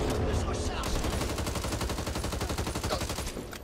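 Sustained rapid automatic gunfire in the zombie shooter Back 4 Blood, a dense, loud, continuous rattle of shots that slowly fades at the end.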